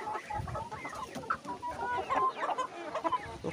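Hens cluck busily around a tall young rooster in a poultry yard, a close, continuous stream of murmuring clucks and short squawks.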